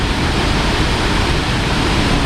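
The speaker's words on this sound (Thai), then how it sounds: "ไปดูน้ำตกกันครับ ตกผาเสือ" Pha Suea waterfall roars as a loud, continuous, close wash of rushing water, steady and unbroken throughout.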